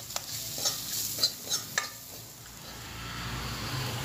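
Salted onions sauté in a pan for a green gram gravy. A soft, low sizzle runs throughout, broken by a few sharp taps and scrapes of stirring near the start.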